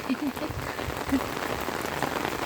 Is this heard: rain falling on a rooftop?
yes